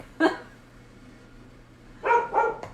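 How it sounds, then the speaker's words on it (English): A pet dog barks indoors in a home, one sharp bark early, then a quick cluster of two or three louder barks near the end, close by over quiet room tone. "that dog is about to drive me up a wall"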